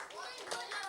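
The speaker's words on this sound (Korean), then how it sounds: "박수." Children clapping briefly in an elementary Sunday school class at a church, a quick faint patter of small hands with young voices chattering over it.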